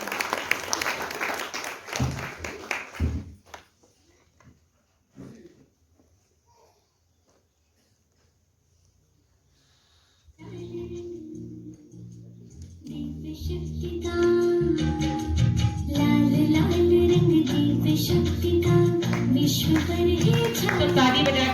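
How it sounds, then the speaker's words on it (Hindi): An audience at a Mahashivratri program at Om Shanti Bhawan in Indore breaks into sustained, loud clapping to welcome a young girl dancer. The applause builds after a quiet pause and stays strong to the end, preceded by brief talk. "उसका भी हम बहुत जोरदार करतल ध्वनि से अभिनंदन करते हैं"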